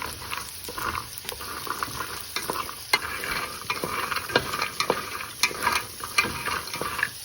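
Food frying in a pan and stirred over a steady sizzle, with frequent scrapes and clicks of a spoon against the pan at an uneven pace, close up and with no talking.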